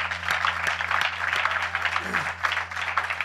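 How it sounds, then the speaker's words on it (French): A church congregation at a Sunday morning service claps continuously in a broad, roomy wash of applause, with a voice faintly audible beneath it. "Applaudissons pour le Seigneur"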